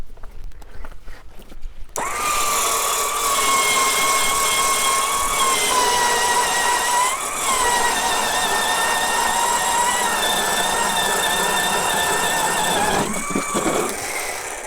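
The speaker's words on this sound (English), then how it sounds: "I like that auger, that's for sure" A power ice auger drills a fishing hole through lake ice, its engine starting abruptly and then roaring loudly and steadily close by for over ten seconds before easing off.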